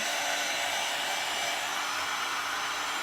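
Steady, loud blowing hiss of a heat tool running continuously throughout, drying paint on a St. Patrick's Day front door sign, with no voices.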